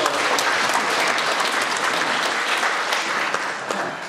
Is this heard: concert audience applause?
yes